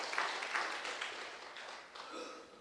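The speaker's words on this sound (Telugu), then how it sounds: "ఒక్కసారి ఆవిడ గ్రాండ్ క్లాప్స్ అండి" An audience at a lecture by Dr. Raghu Arya breaks into applause: a crowd of clapping hands surges at the start, then gradually thins and fades over a couple of seconds.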